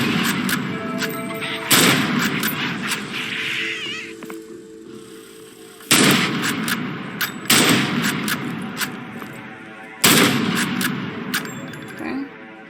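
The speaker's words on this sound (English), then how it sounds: "To shoot, left click while holding it." Gunshots from a first-person horror video game, heard as three or four loud, sharp blasts spaced a few seconds apart, each followed by a decaying echoing tail, with fainter background game sounds between them.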